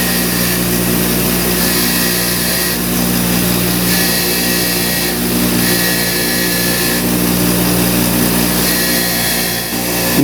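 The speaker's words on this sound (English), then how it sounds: "I'm going to clean this on the wire wheel quickly." A bench wire wheel spins steadily while cleaning a lawn tractor carburetor part, a loud continuous motor whine with harsh scraping as the part is pressed against the bristles, running uninterrupted for about ten seconds.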